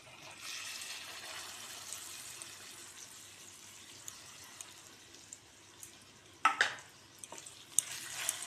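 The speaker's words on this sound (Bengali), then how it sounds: "জগন্নাথ দেবের জন্য এখন কচুরি ভাজা হচ্ছে।" Kochuri fry in a pan of oil with a soft, steady sizzle, then a louder burst of clatter and spatter near the end as the pieces are moved about.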